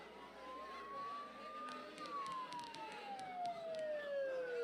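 A wailing emergency siren from Persona 4 Golden sweeps up and down in pitch, sounding close and steady over a faint background.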